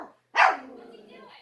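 A dog barks at people in its yard: one sharp, loud, close bark after a short pause, trailing into a drawn-out whining, vocal tail.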